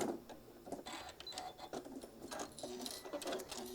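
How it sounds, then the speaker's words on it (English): A sewing machine stitches across a zipper through thick foam, close up and fairly quiet, its rapid mechanical needle chatter running steadily throughout with slight variations in speed. "Keep it nice and steady, stitching across."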